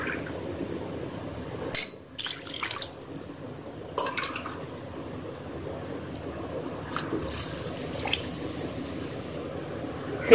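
Water is poured into a pot holding rice and urad dal, a close, steady liquid splash and gurgle with a few clinks and knocks, and no talking.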